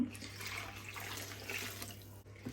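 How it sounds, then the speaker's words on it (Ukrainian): Milk is poured into a bowl while making Easter paska dough, a soft continuous liquid trickle with a low steady hum behind it, close and fairly quiet, ending in a small splash. "Тепер сюди я виливаю молочко."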